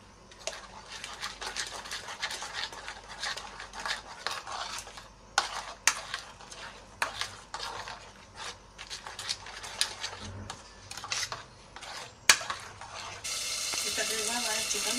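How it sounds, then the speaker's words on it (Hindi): A sauce with chili sauce and vinegar is stirred in a pan, giving a quiet scraping and clinking of the utensil over a low sizzle, with scattered sharp taps and a steady hiss building toward the end. "अब अच्छे से इसको हम मिक्स करेंगे।"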